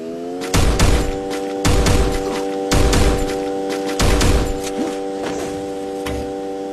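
Four heavy thumping impacts in a steady rhythm, bare-handed punches in a shooter-style video game with loot boxes, heard up close over a sustained in-game tonal hum.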